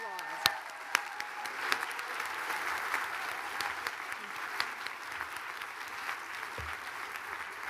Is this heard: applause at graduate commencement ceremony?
yes